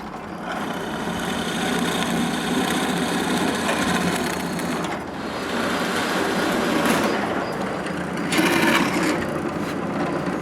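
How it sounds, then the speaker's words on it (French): A power drill boring holes into plywood edge strips for drawer dividers in a woodworking shop; steady continuous whirring mechanical drone running throughout, close and fairly loud, with a brighter burst near the end. "Je marque l'emplacement des trous pour les tournevis, puis je perce les trous."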